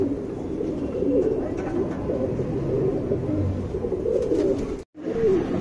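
Cheeni male pigeon cooing steadily at close range, a continuous low throaty burble with a brief pause near the end.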